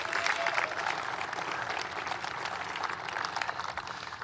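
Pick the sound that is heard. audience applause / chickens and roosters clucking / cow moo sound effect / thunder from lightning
audience applause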